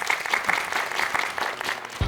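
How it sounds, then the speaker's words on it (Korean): Indoor studio applause of a small group, steady clapping that fills the moment right after a performance, close and lively, ending with a soft thump. "박수 한번 쳐주세요."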